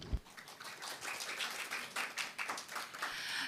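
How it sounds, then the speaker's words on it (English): An audience at a green smart city conference gives steady applause to welcome a speaker, a dense crackle of many hands clapping that runs for several seconds at moderate volume with no talk. "Please welcome her with a big round of applause."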